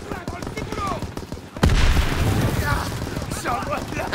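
Call of Duty WW2 battle in the mountains: a loud grenade blast erupts partway through, followed by continuous nearby gunfire and rumbling explosions, with game voices talking over the combat.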